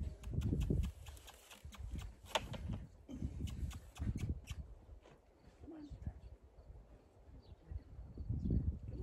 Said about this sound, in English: I'm bringing you a pony.